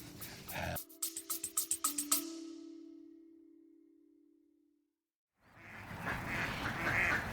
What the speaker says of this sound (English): The ducks at High Ash Farm going in to roost for an evening